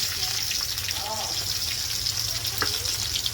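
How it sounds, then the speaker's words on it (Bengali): Sliced onion frying in hot oil with a bay leaf in a pan, a steady close sizzle throughout with faint stirring, ahead of a bottle gourd and shrimp curry. "এখন আমি পেঁয়াজ দিয়ে দিলাম,"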